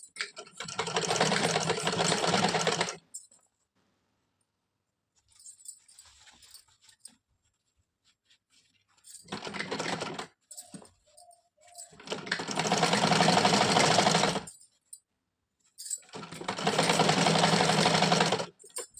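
A sewing machine runs double stitching on fabric for an Afghani salwar in four separate bursts, each buzzing for a few seconds between pauses.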